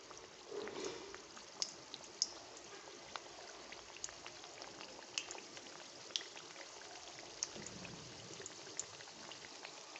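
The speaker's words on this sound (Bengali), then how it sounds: "দেখুন এই মিষ্টিগুলো ভাজার জন্য গ্যাস অন করে কড়াইয়ের মধ্যে আমি তেল গরম করে নিয়েছি।" Chhana jilapi sweets frying in hot oil in a wok over a medium gas flame give a steady bubbling sizzle with scattered sharp pops, continuous and close, with no voices.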